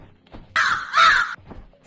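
A crow gives two loud, harsh caws in quick succession, close by and alone against a quiet background.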